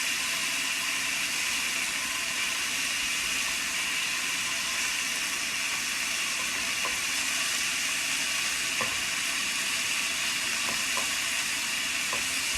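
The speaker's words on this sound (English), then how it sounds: "involves cooking our beef. And in this case, I tend to want to cook it until it gets a little bit of caramelization." Beef sizzles and fries in a hot pan for shirataki sukiyaki, a loud, dense, continuous hiss with a few faint clicks, close up and with no talk over it.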